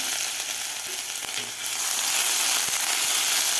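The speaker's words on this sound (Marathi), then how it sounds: "अद्रक लसूणची पेस्ट आपल्याला एक मिनिटभर व्यवस्थित परतून घ्यायची आहे" Ginger garlic paste fries in a pan with a steady, close sizzle for khichdi, swelling louder partway through with a few stirring clicks; no talking.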